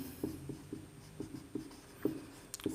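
Pen or chalk writing on a board during a chemistry lesson: short, quiet scratchy strokes in irregular bursts, faint against a hushed room.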